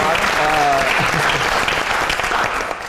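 Audience applause at a theatre evening show, dense continuous clapping from a crowd, loud and close, with a voice speaking over the start.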